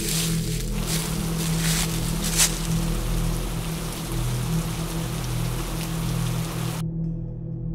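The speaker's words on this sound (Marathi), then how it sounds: "पावसाची रिपरिप पुन्हा जोर पकडू लागली होती" Rain falls steadily on a muddy mountain path at night, a continuous hiss over a low, constant rumble, then cuts off abruptly near the end.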